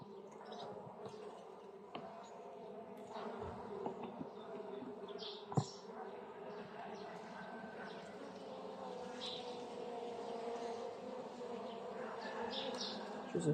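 Caucasian honeybees buzzing at an open hive, a colony weakened over winter now recovering, a steady faint drone with occasional bees passing close.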